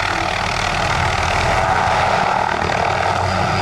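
A rare helicopter without a tail rotor performs 360-degree spins, giving a loud, continuous rotor and engine drone with a rhythmic pulsing beat that stays steady and close, with no talking.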